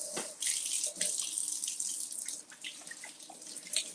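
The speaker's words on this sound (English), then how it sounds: "Let me wash my hands." Hands washed under a running kitchen tap, a close steady hiss of flowing water with splashes and brief drips shifting as the hands move, no voices.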